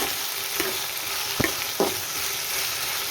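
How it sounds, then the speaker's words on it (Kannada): Okra sizzles in hot tempering oil in a pan for a home-style okra stir-fry, a soft steady frying hiss broken by a few light stirring scrapes. "ಇದನ್ನು ಫ್ರೈ ಮಾಡಬೇಕು"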